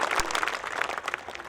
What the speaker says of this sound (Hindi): 1 मिनट तक उनके लिए ताली बजाएं जिन्होंने अभी परफॉर्मेंस दिया है